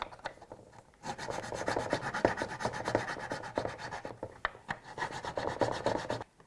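Hand filing of excess material from a model railway viaduct, a close, rhythmic rasping of rapid back-and-forth strokes after a brief quiet start, with no talking.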